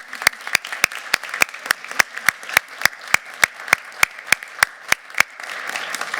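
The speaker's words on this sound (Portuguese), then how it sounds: "E pedir uma salva de palmas para os sócios fundadores" Applause for founding members at a health literacy event, heard as sharp, evenly spaced claps in a steady rhythm, close and distinct over a quiet room.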